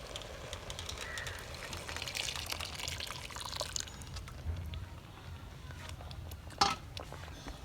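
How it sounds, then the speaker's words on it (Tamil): Water pours steadily into a pot of spinach kadayal with a soft, continuous splashing hiss, close by, with a few brief drips near the end. "நம்ம ஏற்கனவே எடுத்து வச்சுருந்த தண்ணியும் இப்போ ஆட் பண்ணிக்க போகிறோம்"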